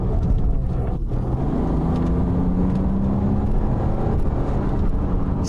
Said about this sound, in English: it accelerates like a 535